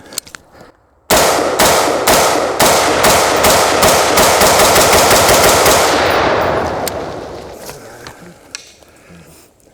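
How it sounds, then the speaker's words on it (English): An AR-15 rifle fired in a rapid string of about twenty sharp shots on an outdoor range, loud and close, the cracks quickening before the last ring fades into quiet. "All right, I shot fairly fast."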